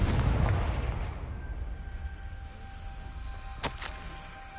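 Confringo spell explosion in Hogwarts Legacy, a deep booming blast that rolls off and fades over several seconds, followed by a couple of faint sharp crackles.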